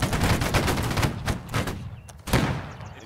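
Musket volleys in Holdfast: Nations At War, a desert ruins battle: a rapid crackle of loud overlapping shots, a brief lull, then another sharp volley burst, with no talk.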